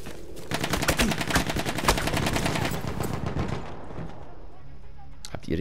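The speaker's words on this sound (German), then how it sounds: "was man bei der RSC 17 echt nicht unterschätzen darf, ist der Rückstoß pro Schuss" In the Battlefield 1 video game, an RSC 17 rifle fires a rapid string of loud, sharp shots amid other battle gunfire, then stops and leaves a quieter stretch near the end.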